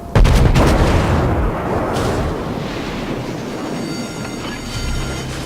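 Naval shellfire pounds a burning ship in World of Warships, a loud continuous rumbling barrage with heavy low booms and crackling impacts that stays dense throughout, with no talking.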